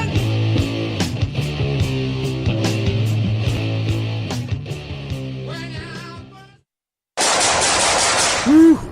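Rapid bursts of gunfire, likely an AK-47 style rifle, in a radio commercial, loud automatic rattling that stops abruptly into a short silence followed by a sharp noisy burst and a rising tone.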